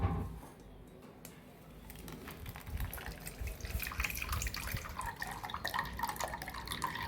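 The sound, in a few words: straining blended tender coconut water through a filter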